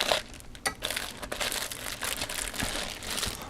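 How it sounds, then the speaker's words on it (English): Plastic bags of model aircraft kit parts are cut and pulled open, with close, continuous crinkling and rustling of thin plastic and a few sharper snips and crunches, no talking. "So let's take a look at what we get in the bags here. Cut these open here."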